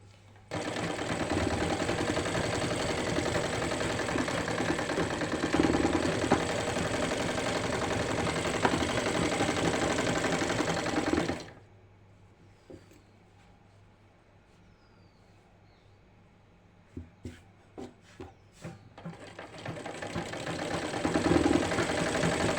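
A sewing machine runs continuously as it stitches a salwar seam, a steady close whirring hum that stops partway through, followed by quiet fabric handling and a few sharp clicks before the motor starts up again.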